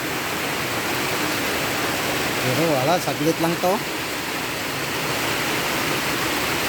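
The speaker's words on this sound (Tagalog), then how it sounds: "Yan o. Ulan na naman." Steady rain keeps up a constant, loud broadband hiss throughout. A voice talks briefly over it partway through.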